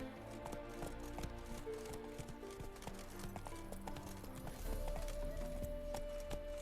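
Roach, the horse in The Witcher 3, trots with a steady clip-clop of hooves, close and continuous, with game music and ambience running underneath.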